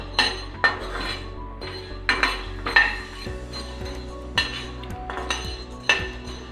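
Black peppercorns are dry-roasted in a pan with repeated metallic scrapes and rattles as a utensil stirs them, close and uneven, with no voices.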